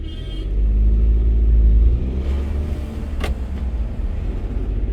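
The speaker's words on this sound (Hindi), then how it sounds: "अब एक बार पंजा दबा के देखते हैं कैसी भागती है।" A Tata Nexon AMT compact SUV, driven in city mode, pulls away hard from a stop with a deep engine rumble that swells and then eases, heard close from inside the cabin with no talk.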